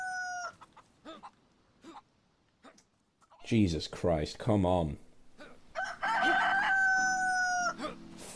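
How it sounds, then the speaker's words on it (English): A chicken in the video game DayZ clucks and squawks in agitated bursts, loud and close, while a voice exclaims over and around the cries. "You're gonna have to find another chicken"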